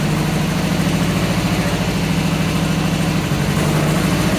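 A classic MGB sports car engine running steadily during a gear test, a loud low rumbling idle with an even pulsing throb that holds for the whole stretch with no voices.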